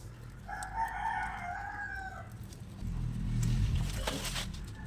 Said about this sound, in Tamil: என்ன கோழி கொக்கரக்கும் சத்தம் போடுது.